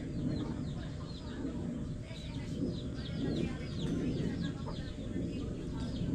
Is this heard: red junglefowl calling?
yes